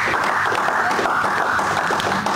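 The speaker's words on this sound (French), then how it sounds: "Est-ce que tu peux acclamer pour le Seigneur? Acclame pour le Seigneur." A church congregation cheers and applauds together during a French-language worship service, a dense, steady wash of clapping and voices that stays loud and continuous throughout without a break.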